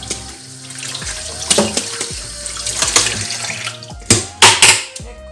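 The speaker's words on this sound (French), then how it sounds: "Lorsque je le rince sur le champ" A funnel being rinsed under a running tap, water splashing irregularly with clattering bursts and a few loud splashes near the end, close and fairly loud.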